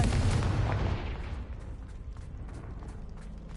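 A Confringo blasting spell goes off in Hogwarts Legacy, a loud booming explosion at the start that rumbles and fades into a low, crackling tail.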